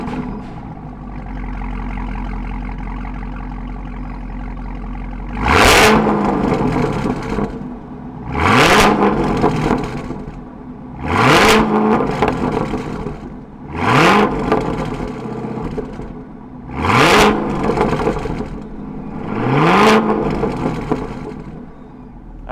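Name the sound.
Cadillac CTS-V LT4 engine with Corsa exhaust starting and revving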